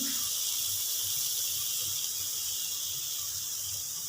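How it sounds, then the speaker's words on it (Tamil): Agathi greens sauté in a pan with a steady, even sizzle and hiss that continues unbroken throughout at moderate loudness. "கீரையும் கொஞ்சம் வதங்கட்டும்"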